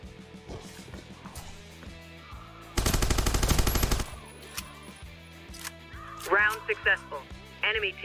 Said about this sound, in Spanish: Y ya que he disparado desde lejos